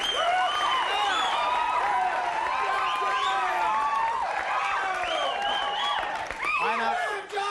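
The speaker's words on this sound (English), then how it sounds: "It's an excited crowd. It's a happy crowd" A lively crowd at a spring break show at Alki cheers, whoops and claps nonstop, a dense close roar of many excited voices with clapping mixed in throughout.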